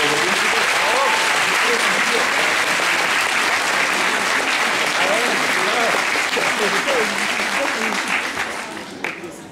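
Sustained applause from a large audience at a 2014 graduation ceremony at the Technical University of Sofia, greeting the rector; dense, steady clapping that fills the hall and tapers off near the end.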